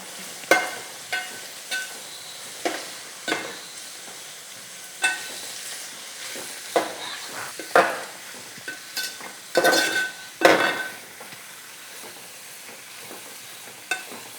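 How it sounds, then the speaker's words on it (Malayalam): Mango pieces stirred in a frying pan: a soft sizzle sits underneath while a utensil scrapes and knocks against the pan in irregular strokes, close by, with a burst of quicker stirring near the end and no talking. "മാങ്ങ ഇങ്ങോട്ട് ഇട്ടു, ശരിക്കും ഇളക്കി കൊടുക്കാം"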